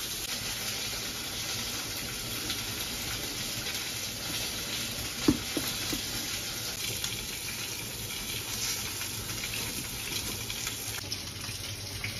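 Pieces of mackerel, cut into segments, fry in a pan with a steady close sizzle and crackle, broken once by a sharp clink of a utensil near the middle.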